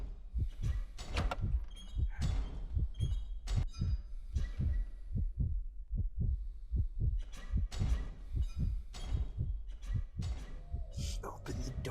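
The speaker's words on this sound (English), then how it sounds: "That is why my heartbeat was so fast. Or so loud, rather." A loud, fast heartbeat pounds steadily in the video game CASE Animatronics, deep thumping pairs repeating close and heavy for several seconds, with faint game noise behind and no talking.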